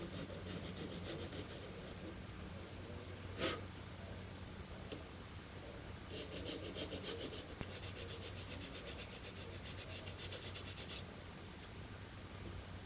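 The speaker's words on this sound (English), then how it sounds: "Oh, I want to file that." A part of a Monogram Battlestar Galactica plastic model kit being filed by hand, with steady, quiet rasping strokes in rhythmic bursts against a faint background hiss, plus one sharp click.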